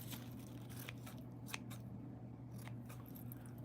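A few faint, quick scissor snips cutting crochet yarn, spaced irregularly over a low steady hum in a quiet room.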